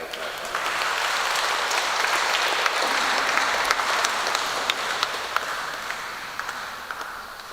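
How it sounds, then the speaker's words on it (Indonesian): Sustained applause from a church congregation at a wedding blessing, dense steady clapping for several seconds that slowly thins out toward the end, with some voices mixed in. "Mari kita tepuk tangan untuk mereka."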